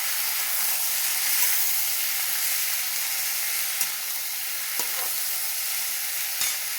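Potato and tomato curry cooking in a pan, a steady loud sizzle and hiss throughout, with a few faint clinks of stirring.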